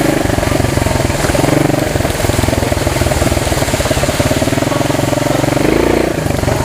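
Honda CT200AG motorcycle ridden off-road in low gear, its engine pulling with a steady, loud, close chugging rumble that runs throughout, rising slightly near the end.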